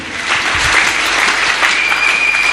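A church congregation claps together in a dense, steady burst of applause that fills the room.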